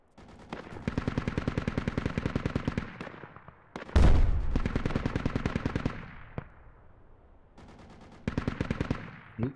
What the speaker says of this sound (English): Sounds like a Mosin.